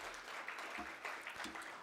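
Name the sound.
audience applause for presenter walking to podium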